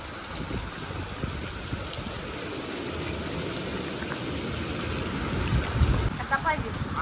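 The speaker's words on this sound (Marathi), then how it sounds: "तिकडे पाऊस चालू आहे" Heavy monsoon rain pours steadily outdoors, a dense continuous wash of falling water with some wind buffeting the microphone, rising slightly toward the end.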